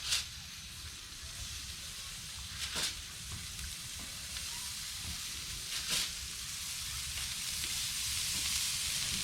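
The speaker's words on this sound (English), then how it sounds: "When we put these on there, we want to sear them." Smash burger balls sear on a hot griddle with a steady, loud, close sizzle and hiss, broken by a few brief crackles and scrapes.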